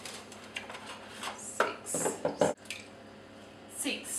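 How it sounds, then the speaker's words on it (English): Raw eggs are cracked into a bowl and stirred for paleo brownies, giving a few faint, close wet taps, clinks and squishy scrapes at irregular intervals, with quiet voice sounds in the background. "break eggs and give each one a quick stir"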